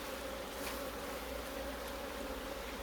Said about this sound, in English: chuck all of the bees back into the box